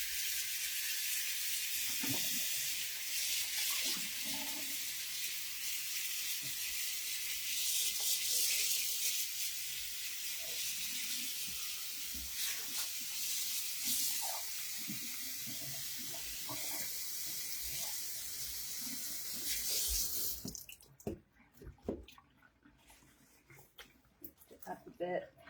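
Tap water runs steadily into a sink during hand-washing of a vintage wedding dress, a loud broadband rush for about twenty seconds that then cuts off, with a person talking throughout and soft handling sounds afterward.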